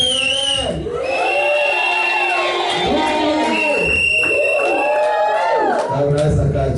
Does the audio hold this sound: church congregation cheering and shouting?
yes